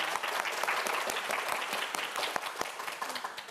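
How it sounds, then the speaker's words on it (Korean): A television quiz show studio audience breaks into loud, dense applause before the final round, a continuous wash of many hands clapping throughout. "큰 박수 보내주세요"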